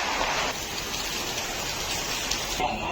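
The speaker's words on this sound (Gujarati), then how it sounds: "વરસાદ ચાલુ થઈ ગયો છે ગાઈસ બરાબર ધોધમાર પડે છે વરસાદ" Heavy rain hisses steadily and densely throughout, a continuous wash of pouring water close by.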